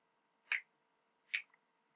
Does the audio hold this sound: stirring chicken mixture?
no